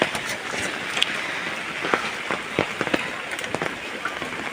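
Rain falls steadily outdoors in a village yard, a continuous patter on surfaces with scattered sharper drops, heard alone.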